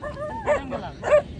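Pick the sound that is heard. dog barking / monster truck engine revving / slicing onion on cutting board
dog barking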